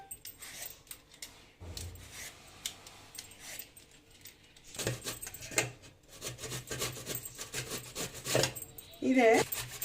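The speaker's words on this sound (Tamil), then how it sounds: "இப்போ இந்த மேங்கோ சீவியாச்சு." A peeled mango is grated by hand for a sweet-and-spicy mango chunda. Rhythmic rasping and scraping strokes come close up in uneven bursts with short pauses between them.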